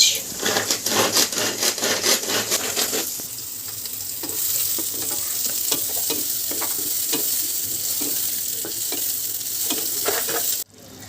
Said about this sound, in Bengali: কুমড়ো ভাজা হচ্ছে এখানে